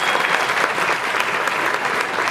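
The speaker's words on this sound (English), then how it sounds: "Huge round of applause for this brave woman" A musical evening audience applauds a brave woman, with thick, steady clapping from a large crowd filling the whole moment, loud and uninterrupted.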